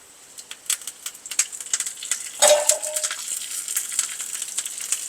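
A few curry leaves dropped into hot oil for a ginger chutney tempering crackle and spit: scattered sharp pops, then a sudden burst of sizzling that settles into steady crackling, close and fairly quiet.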